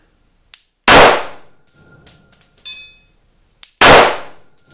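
Two sharp, loud Glock 17C pistol shots at an outdoor shooting range, well spaced with a ringing decay after each, and faint metallic clinks of brass casings between them.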